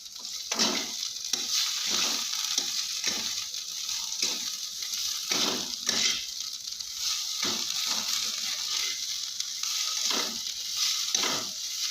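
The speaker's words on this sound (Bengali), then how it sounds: "ভাজতে ভাজতে দেখো তেল ছেড়ে দিয়েছে এবং কড়াই থেকে লেগেই যাচ্ছে না" Mashed ash gourd fries in oil in a wok, a continuous close sizzle punctuated by regular scraping strokes of a spatula against the pan.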